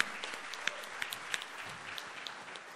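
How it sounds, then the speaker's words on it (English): At a car launch event, an audience gives light, scattered applause, a thin wash of distant clapping with a few sharper individual claps standing out. "A round of applause for that achievement"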